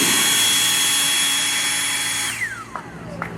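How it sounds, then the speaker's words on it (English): A Milwaukee dual-battery leaf blower roars loudly at full power up close, then cuts off and winds down with a falling whine during the last second, leaving brief faint knocks. "let's move over to the dual battery blower"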